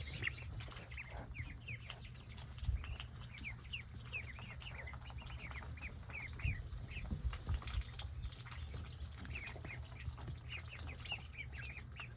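Constant high peeping of several small chicks chirping over and over, with faint rustling and low background noise.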